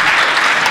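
Applause from an audience at a startup event at the Hebrew University in Jerusalem, dense and steady throughout a short burst, with no talking over it.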